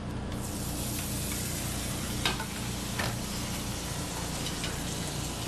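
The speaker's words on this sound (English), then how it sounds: "You can really hear, this is where the sizzle comes from then." A six-ounce filet sizzles steadily on a 500-degree plate, a constant loud crackling hiss with a couple of brief sharper spits.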